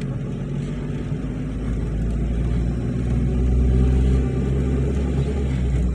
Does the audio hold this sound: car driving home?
yes